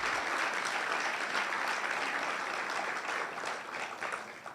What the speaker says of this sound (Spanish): Pido un aplauso por el doctor Antonio Hernández